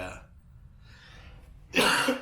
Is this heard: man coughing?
yes